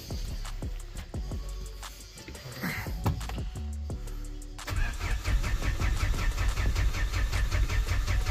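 A diesel car being cold-started after standing a long time: several short cranking bursts and clicks, then the engine catches at about the midpoint and settles into a steady, knocking diesel idle close by.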